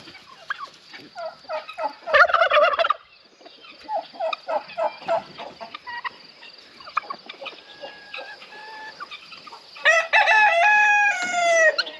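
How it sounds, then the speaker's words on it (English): Turkeys gobble repeatedly in bursts, close and loud, with a rooster-like crow and clucking mixed in among the calls. "Two good turkey buddies right here."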